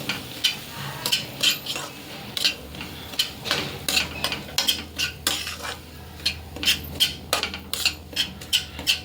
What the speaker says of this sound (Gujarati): અને આ રવાને છે ને આપણે ધીમા ગેસે શેકી લેવાનો છે.